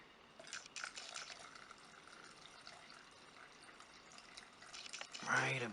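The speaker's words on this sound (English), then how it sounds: "So I'm going to pour my reducer in." Automotive paint reducer is poured into a container, giving a soft, steady trickle and splash that swells into a fuller gurgle near the end, faint against room noise.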